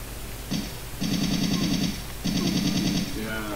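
Automatic gunfire in the video game Resident Evil 3, two sustained bursts of rapid rattling shots close and loud, separated by a short pause.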